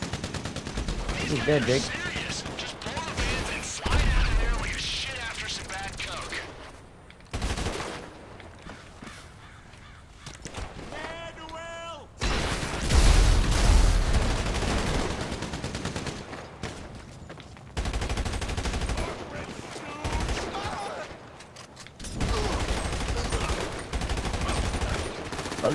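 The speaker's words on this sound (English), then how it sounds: "Oh, shit, they're already shooting" Bursts of gunfire in a Grand Theft Auto V shootout against hillbillies, loud repeated shots and rapid volleys spread across the scene, heard under excited talk from players and characters.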